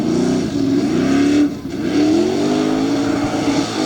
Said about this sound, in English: Here comes the Spirit Warrior, Josh Bauer, about to put a lot of horsepower to work in this mud